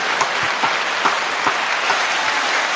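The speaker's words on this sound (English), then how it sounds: "round of applause for Big Rick Glaser" Applause for Big Rick Glaser on a talk show, steady dense clapping at an even level with faint periodic thumps running through it, no voices.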